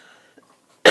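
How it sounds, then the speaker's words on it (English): A single sharp cough from a person the day after weight-loss surgery, brief and close, following near silence with faint background hum. "cough, and coughing hurts a little"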